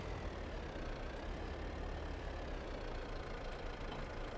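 Engine of a farm vehicle idling in Farming Simulator 22, a steady low rumble holding even throughout with no talk over it.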